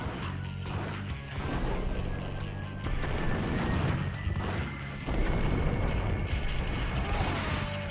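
Rapid, loud gunshots and clattering impacts from a Max Payne shootout come in dense bursts throughout, with heavy blasts and mechanical rattles layered close together.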